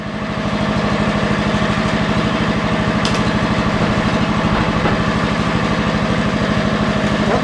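Engine of a 40-year-old Lincoln Weldanpower 150 welder running steadily, a loud, close, rapid rhythmic chugging with a faint clink partway through and no voices.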